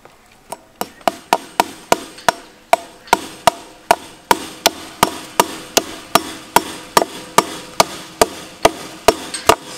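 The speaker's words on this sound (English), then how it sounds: "then you gotta get the hammer" Steady hammer blows ring out during barbed wire fence work on a bison ranch, roughly two sharp metallic strikes per second for about ten seconds, loud and close with no talking.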